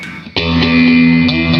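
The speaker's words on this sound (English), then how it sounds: "It's using the ring mod in a way I usually don't use, which is dope." Electric guitar run through a pedalboard with a ring modulator, giving a sustained, harsh, dissonant metallic tone with distortion; a note is struck, then re-struck partway through, loud and up close with no talking.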